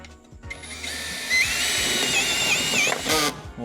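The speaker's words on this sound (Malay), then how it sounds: "First saya nak test direct screw tanpa pre-drill Terus screw ke dalam ni" A power drill drives a screw straight into wood without a pilot hole, a sustained whining motor that rises in pitch and strains as the screw bites, ending abruptly after about three seconds, loud and close.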